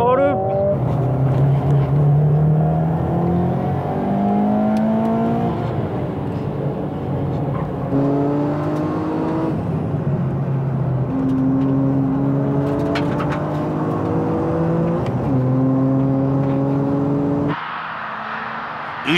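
A Toyota GR Yaris races in an AWD battle at Tsukuba circuit, its engine loud and close, repeatedly revving up through the gears with rising pitch and short drops at shifts, while a voice talks over it.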